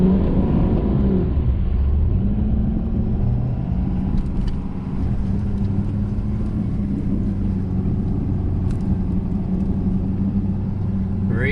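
A pickup truck grinding slowly over rough rocks, a steady low engine drone with rattling and clunking from the body, running continuously without talk.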